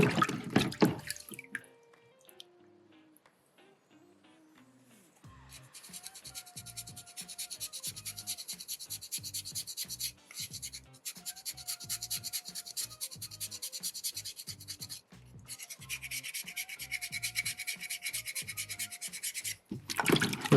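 Steel rasp filing a soft soapstone skull carving, a steady run of rhythmic scraping strokes, close and fairly quiet, with short pauses between passes.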